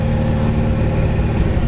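A 1965 Chevy Chevelle convertible's engine and exhaust rumble steadily while the car is driven, a continuous loud low drone with no talk over it.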